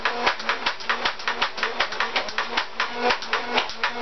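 A Photon Storm toy blaster firing suction-tip foam darts in a rapid string of sharp mechanical clacks and thumps, about a dozen shots at a steady rhythm, close up with no talking.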